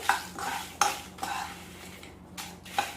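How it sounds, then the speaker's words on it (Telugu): Dried red chillies fry in a little oil while a spoon stirs them, producing a soft sizzle broken by several distinct metallic scrapes and taps against the pan. "కొంచెం నూనె వేసుకొని ఇలా వేయించుకోండి."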